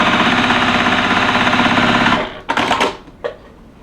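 Sewing machine stitching a fabric strip onto a handbag runs in a loud, steady rapid whir for about two seconds, then stops, leaving a few clicks and handling knocks.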